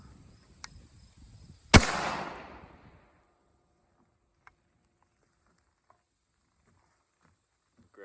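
A single sharp, loud crack from a Remington 742 .30-06 semi-automatic rifle, with a brief tail ringing away over a couple of seconds, a faint earlier tap, then near silence.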